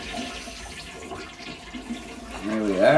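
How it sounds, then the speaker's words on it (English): A toilet flushes with a rushing swirl of water, building toward the end of the stretch and mixing with the gurgle of refilling. "Flushed a lovely hard turd down the toilet."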